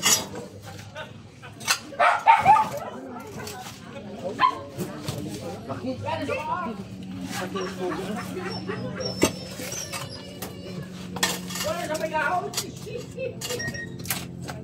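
A dog barks and yips repeatedly amid busy background chatter and clatter, with people talking throughout.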